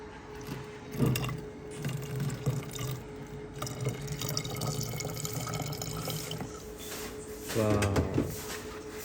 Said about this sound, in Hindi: अब इसके अंदर जो है ना हम पानी डालेंगे